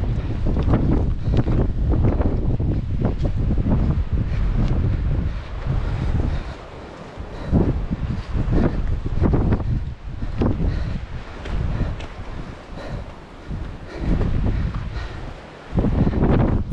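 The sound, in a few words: wind blowing during a trail running race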